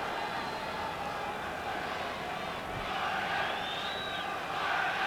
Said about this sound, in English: Unhappy, but still willing to cheer on the Spanish team